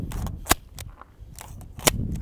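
Gunshots ring out as a magazine is emptied outdoors, a few loud sharp cracks spaced irregularly amid fainter pops, close and dominant over the scene.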